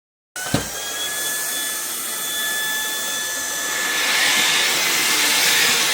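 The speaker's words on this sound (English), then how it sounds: "But first, a bit of hoovering." A vacuum cleaner hoovers a lounge floor during decorating, its motor starting abruptly and settling into a steady loud whine with high tonal hums, swelling slightly near the end, with no talking.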